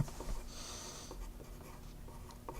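Pen writing words by hand on paper, a soft close scratching with a few short strokes, quiet against a low room hum.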